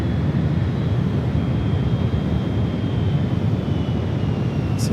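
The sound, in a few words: airliner at San Francisco airport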